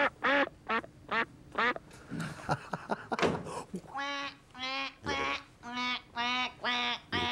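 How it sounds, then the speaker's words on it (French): A button-activated toy duck quacks repeatedly in short, evenly spaced bursts, loud and close, with a brief stretch of clattering and rustling midway. "une canne qui fait coin-coin quand on touche le petit bouton comme ça."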